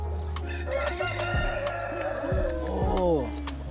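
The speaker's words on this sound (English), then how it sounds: "Look at the rooster." A large rooster crows at a street market in Ankara, Turkey, its loud rising calls repeating close by over market chatter and background voices.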